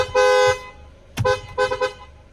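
A very loud 2022 Mercedes-Benz E350 car horn blares once for about half a second, then sounds again in a quick series of three or four short honks.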